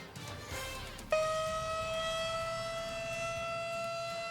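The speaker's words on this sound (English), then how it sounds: "Why state officials are sounding off the tornado sirens" Tornado warning sirens under test rise into a long, steady wail after a second of quiet background, holding one sustained tone at a moderate distance.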